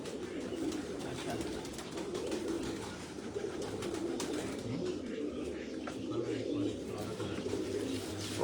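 Salara pigeons coo on a rooftop, a low repeated throaty cooing from several birds close by, with someone talking over them.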